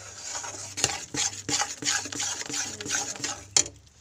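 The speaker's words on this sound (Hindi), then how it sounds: "ऐसे लगातार हम इसे चलाते हुए कुक करेंगे।" Gram flour stirred in a pan for egg-and-besan halwa, a spoon scraping and knocking against the metal with repeated short strokes and a sharp clack near the end, close and clear with no talk.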